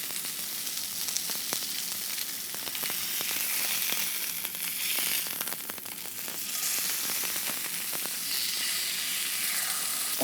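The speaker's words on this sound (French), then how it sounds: "Un peu vif, on saisit bien les deux faces et c'est tout." Beef sears in a hot pan, a steady, close, loud sizzle with scattered sharp crackles and pops throughout, no voices.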